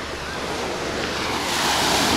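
Sea waves wash onto a sandy Azov Sea shore at Kazantip Bay in Crimea, a steady rushing surf that swells toward the end, mixed with wind buffeting the microphone.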